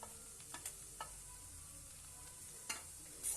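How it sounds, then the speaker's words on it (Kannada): Brain and egg frying with turmeric powder in a village-style Kannada kitchen, a steady quiet sizzle with a few faint clinks and scrapes of stirring. "ಅರಿಶಿಣದ ಪುಡಿ ಹಾಕೊಂಡು ಈ ತರ ಫ್ರೈ ಮಾಡ್ಕೋಬೇಕು"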